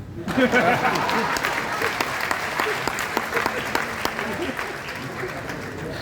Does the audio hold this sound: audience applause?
yes